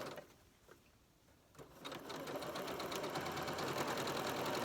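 Sewing machine stitching a scant quarter-inch seam on a flying geese quilt block, starting after a few soft handling clicks and then running steadily and close, growing slightly louder to the end.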